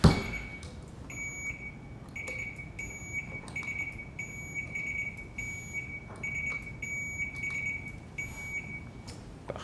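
Quiz buzzers tested before a competition round in a hall, with short electronic beeps sounding repeatedly in irregular bursts over a quiet room murmur.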